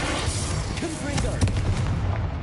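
A Confringo fire-blast spell explodes in Hogwarts Legacy on PS5, giving brief bursts and booms over steady rumbling game noise, with voices and spell effects mixed in.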